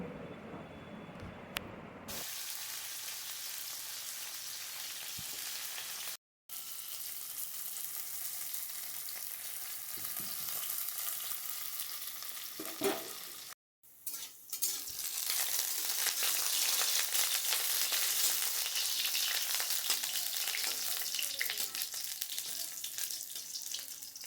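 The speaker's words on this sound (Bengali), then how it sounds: "দিয়ে নিলাম সর্ষের তেল তারপরে আমি এখানে করলাগুলো হালকা করে একটু ভেজে নেবো" Bitter gourd fries in mustard oil in a kadai, a steady hissing sizzle that runs on with two brief breaks and grows louder and fuller toward the end, close and without talk.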